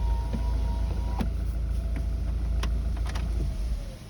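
A warm Volkswagen 2.0 TDI BKD pump-deuce diesel idles smoothly with a deep, steady low rumble, close to the engine, with a few faint clicks and knocks on top; the sound drops away at the very end.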